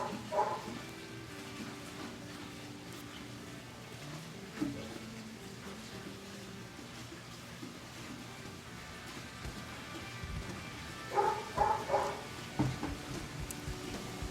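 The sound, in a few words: dog barking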